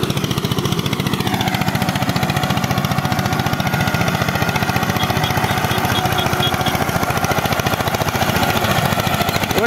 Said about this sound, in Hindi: ये सामने 242 आइसर है और काफ़ी चढ़ाई है, लगभग 60 क्विंटल के आसपास इसमें लकड़ी है।